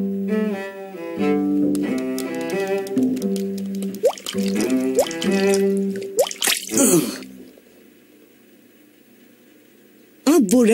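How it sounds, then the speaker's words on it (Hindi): Cartoon water leak drips with a few bright, plinking drops falling at irregular intervals, mixed with music and a voice in the background. "मुझे ये टपकना बंद करना ही पड़ेगा।"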